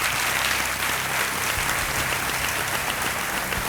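Studio audience applause on the Kaun Banega Crorepati season 10 game show, a loud, continuous wash of many hands clapping that stays steady for nearly four seconds with no talk.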